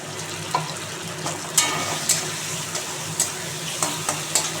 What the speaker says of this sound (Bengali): এখানে আমি লঙ্কা, হলুদ, জিরে মিশিয়ে রেখেছি। এটা দিয়ে এবার কষিয়ে নেব।